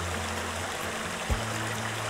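The Zygaktis river flowing, a steady broadband rush of running water with a low hum underneath and one brief thump partway through, continuous and without voices.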